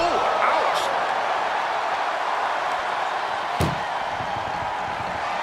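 An ambulance door slams shut once, sharp and loud, partway through a WWE 2K24 ambulance match, cutting through a steady roar of arena crowd noise.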